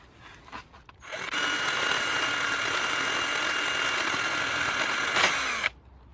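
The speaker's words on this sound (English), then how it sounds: "I'm just going to try and clean the end of the locking wheel nut with this little die grinding tool" A small die grinder whines steadily for about four and a half seconds as it cleans the end of a locking wheel nut, a loud, close, sustained high-pitched grind that starts and stops abruptly, with faint handling clicks before it.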